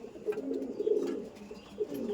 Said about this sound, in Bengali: তো এই পায়রা দেখিয়ে দিচ্ছি